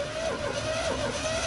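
A sailing boat's engine runs after sitting unused for five months, giving a steady, close mechanical drone with a slightly wavering tone throughout.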